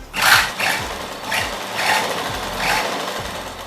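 A sewing machine stitching palazzo pants, a steady close mechanical whir with a rhythmic pulse, running alone without talking.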